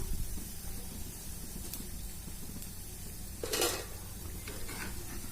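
Sago punugulu fritters frying in oil on a low stove flame: a faint, steady sizzle with a few soft clinks and one brief scraping stir of a utensil against the pan.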